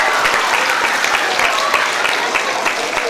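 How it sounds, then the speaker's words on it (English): An elementary school audience at an awards ceremony claps for its teachers, a loud, dense, continuous round of hand claps filling the room from start to finish. "Give a round of applause for your teachers"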